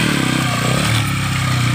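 Motorcycle engine running steadily and loud at a motorcycle rodeo stunt event outdoors, a continuous rumbling drone with faint clatter and no voices.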